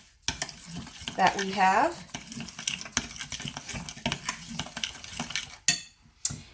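Wet butter tart filling being stirred with a utensil in a bowl, a run of soft scraping and clinking strokes. A voice speaks briefly at the start, and the stirring gets a bit louder near the end.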